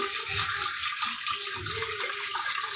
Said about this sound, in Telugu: ఫస్ట్ ఇందులోని వాటర్ వేసుకోవాలి